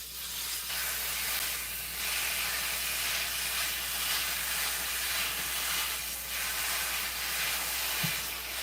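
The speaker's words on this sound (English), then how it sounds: "Now We'll add our steak." Steak searing in a hot pan gives off a steady, broad hiss and sizzle that holds at an even level throughout, close and unbroken, with no voices over it.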